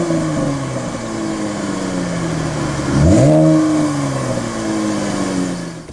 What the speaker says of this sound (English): let's start out by just doing a little rev. The sound of that.